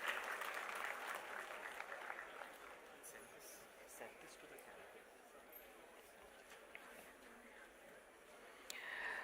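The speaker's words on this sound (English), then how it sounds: "A round of applause for our dignitaries." Quiet, distant applause at a university day celebration, honoring dignitaries. It is strongest at first, fades gradually, and ends with a faint swell, with some muffled background voices.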